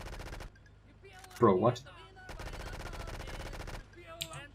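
Rapid AK rifle fire in the game GTA3 rattles in steady automatic bursts, with a short break between long strings of shots and a music track playing underneath, and someone briefly speaks.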